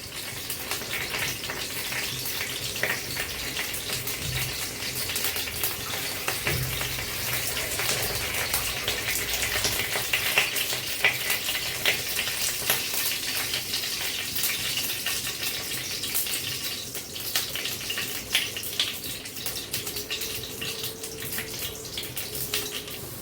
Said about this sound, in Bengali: আলুটা আমি ভাজি করে নেব।